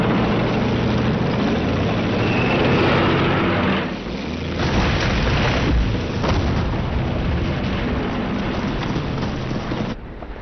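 Katyusha rocket launchers, known as Stalin's organs, fire during a massive WWII Soviet offensive: a loud, continuous roaring barrage with heavy booms and rumbling that dips briefly, surges again, then cuts away near the end.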